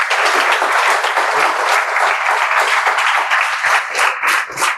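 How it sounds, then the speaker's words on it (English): An audience at a UPSC civil-services coaching institute claps loudly and steadily, a thick, close burst of applause with individual claps popping out toward the end. "So a very big round of applause for Shashi ma'am also"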